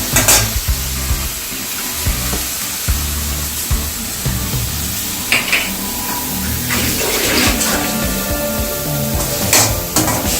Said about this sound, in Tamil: கொஞ்சம் நல்லா ஃப்ரை பண்ணிடுங்க நல்லா வதங்கிச்சுங்க